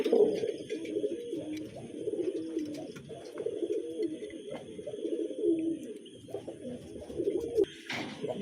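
Male pigeon cooing repeatedly at a female placed beside him, steady low throaty coos close by over a faint background hum, with a brief louder rustle near the end.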